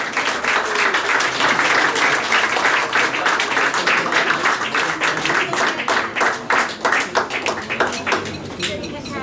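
Enthusiastic audience applause at the Baguettes d'or gastronomy award ceremony in Paris, sustained dense clapping that turns into sharper, more distinct individual claps toward the end, loud and close.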